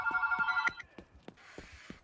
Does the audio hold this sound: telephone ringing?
yes